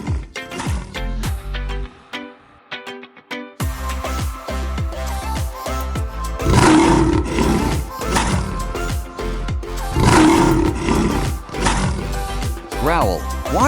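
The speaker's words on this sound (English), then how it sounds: "Growl, watch the tiger." A tiger growls and snarls in two loud bursts against upbeat children's music, with short pauses between them.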